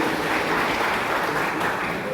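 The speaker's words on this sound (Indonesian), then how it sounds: "Kita berikan tepuk tangan buat mereka." A crowd in a church service claps steadily throughout, a dense, even wash of applause that neither builds nor fades.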